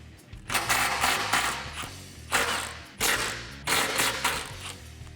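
A ratchet loosens the nuts on the exhaust band clamps of a 2018-2020 Mustang GT in four quick bursts of clicking, each followed by a brief pause, close and clear.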